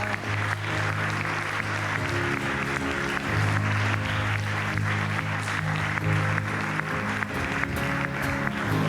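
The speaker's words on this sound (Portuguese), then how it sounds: "Vamos aplaudir Ele mais uma vez." A church congregation applauds at a worship service, with continuous steady clapping over a sustained musical tone from instruments in the background.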